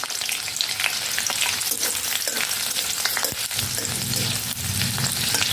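Garlic fries hard in hot oil for a Maharashtrian peanut chutney, a dense, steady crackling sizzle that stays loud and close throughout with a few sharper pops and scraping stirs, no voices.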